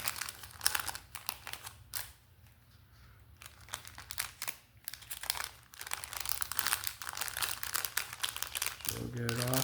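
A plastic bag holding soldering flux crinkles and crackles in short, close bursts, with someone talking over most of it.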